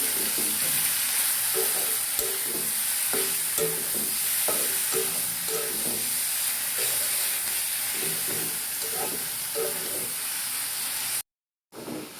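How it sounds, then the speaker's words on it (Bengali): Spices tempered in hot oil for a rohu fish curry, a loud continuous sizzle and crackle of frying with stirring scrapes throughout, ending in a brief silence and a short final burst. "বাগার দেবো এখন"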